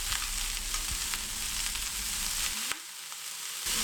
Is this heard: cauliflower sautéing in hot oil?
yes